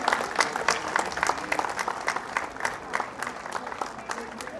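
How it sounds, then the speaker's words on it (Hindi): Audience clapping for young army soldiers at a school annual day and prize distribution function, a steady patter of many hands with scattered sharp claps, moderately loud and continuous throughout. "इनके लिए please big round of applause, तालियों से इनका हौसला बढ़ाएं"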